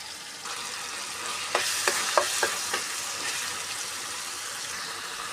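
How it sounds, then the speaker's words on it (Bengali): Sliced onions cooking with ginger-garlic paste in a pan, under a constant frying hiss, with a quick run of spatula scrapes and clinks in the middle and no talk. "মশলাটাকে ভালো করে কষে নিতে হবে আগে, কাঁচা গন্ধটা যেন চলে যায় আদা রসুনের"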